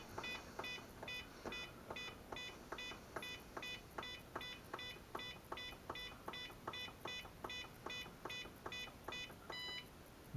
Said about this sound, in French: On va attendre le bip long.